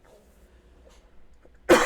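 A single sharp cough bursts out loud and close near the end of an otherwise quiet stretch of faint background noise, during a timed Fate or French Fry game round.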